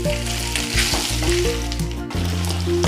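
Pieces of pork fry in their own rendered fat for a Kerala-style pork pepper fry, making a steady, close sizzle beneath background music.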